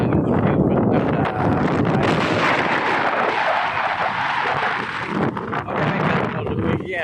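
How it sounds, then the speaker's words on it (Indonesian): Strong wind roars steadily across a harbour dock on the Sunda Strait during cargo loading, a loud, continuous buffeting rush that fills the whole stretch with gusty, broadband noise. "Jadi dermaga angin bertiup kencang"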